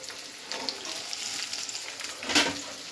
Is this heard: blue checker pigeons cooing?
no